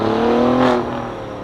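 A Dodge Charger R/T with a 5.7 V8 and an aftermarket Muffy D mid-muffler revs in a shop on a lift, one loud rising burst peaking mid-clip, then settling back to a steady idle.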